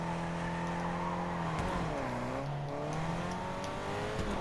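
A race car engine in Fortnite drones steadily at high revs, its pitch dipping and climbing as it shifts, loud and continuous with no talk.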